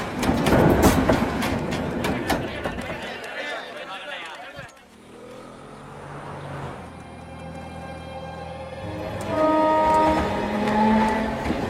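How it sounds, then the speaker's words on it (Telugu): A train arriving with its horn: clattering rail noise and voices at first, then sustained horn tones rising near the end. "రైలు వచ్చే టైం అయింది."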